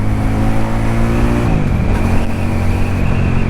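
A QJMotor SRK 400 motorcycle engine turns over at low RPM with a rough, loud, steady idle, its pitch shifting slightly about halfway through, with no voices over it.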